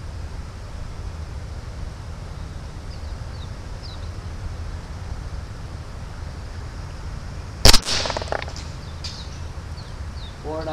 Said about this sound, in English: Shooting at about 10 yards.